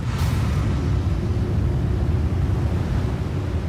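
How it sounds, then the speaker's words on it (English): Giant tsunami waves from an asteroid striking the ocean surge as a dramatic sound effect, a loud, dense, continuous roar of rushing water and wind-like rumble with no pause. "The impact of the asteroid in the ocean has now created a series of tsunamis that race across the oceans"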